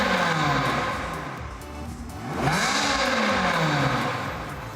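A car engine revs up under acceleration, rising in pitch, dropping briefly, then surging again loud and close with a strong throaty note.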